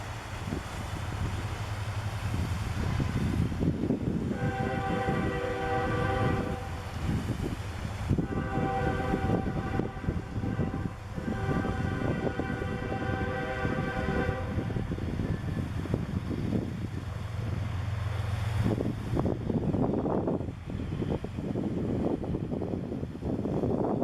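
A Norfolk Southern train passes near a bridge on the Georgia coast. Its steady rumble continues throughout, with long horn blasts sounding over it and wind buffeting the microphone.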